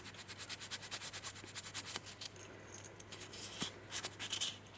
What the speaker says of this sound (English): Just rub it on the surface of all your wires.